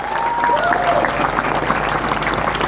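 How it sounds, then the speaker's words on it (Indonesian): Crowd applause at a religious school gathering in Indonesia, loud sustained clapping from many hands with a faint voice or whistle-like tone briefly rising over it near the start. "Maka tepuk tangan untuk Miftahul Huda semuanya."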